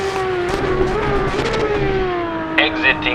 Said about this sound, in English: the backfire is crazy on this Porsche